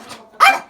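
A guard dog gives a single sharp, close bark after a faint earlier yelp, loud and brief with no talking.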